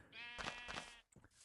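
A single sheep in Minecraft Pocket Edition gives one wavering, nasal bleat, clear and close, followed by a short softer trailing note.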